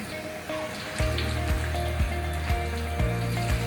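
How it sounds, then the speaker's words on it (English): Reusable woven fabric masks are rinsed under running water, a steady close splashing and trickling that grows louder after the first second, with small sloshes as the masks are moved. No talking. "And now we can rinse the masks."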